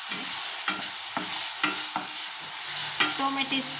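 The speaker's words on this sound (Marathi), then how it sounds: "टोमॅटो पण छान परतून घ्यायचे आहे आपल्याला" Tomatoes sautéing in a pan for matar bhaji, a steady close sizzle broken by a regular series of spoon scrapes and stirring knocks, with no voices.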